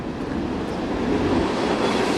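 A train rumbles steadily and loudly past through a town, with constant broad roaring noise and faint clatter from the wheels on the rails.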